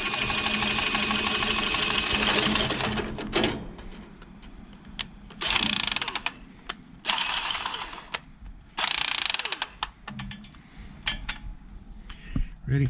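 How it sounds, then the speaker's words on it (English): A tubing cutter is worked around a refrigeration line on a walk-in cooler unit during a scroll compressor change-out, giving close, repeated ratcheting and scraping clicks in uneven bursts with brief pauses between turns. "I love this tubing cutter."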